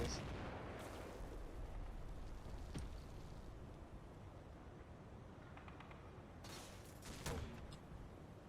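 In a war video game, distant booms and sharp cracks of light mortar explosions go off sporadically over a constant low rumble, with a cluster of bursts near the end.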